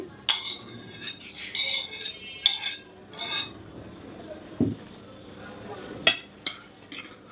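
A spoon clinks against a bowl as chopped apple, strawberries and pomegranate seeds are stirred together, giving a run of light, irregular metallic taps and scrapes at close range.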